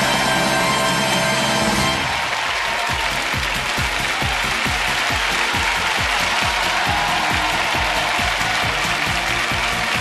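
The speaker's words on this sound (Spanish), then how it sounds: "Ahí está la ovación para recibir a los dos pueblos" A studio audience at a summer town-versus-town game show breaks into a loud, sustained ovation with rapid, rhythmic clapping, after a brief opening of music.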